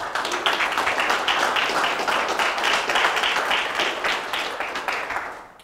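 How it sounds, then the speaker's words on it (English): Audience applause greeting a lecturer before a talk, a dense steady wash of many hands clapping in a hall, holding strong for several seconds before tapering off near the end. "I'll take the applause now."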